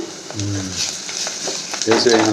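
Ginger paste sizzles as it fries with chicken, curry leaves already in the pan, a steady hiss broken by a couple of scraping stirs and a louder burst of frying toward the end.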